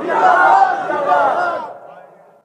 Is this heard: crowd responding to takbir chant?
yes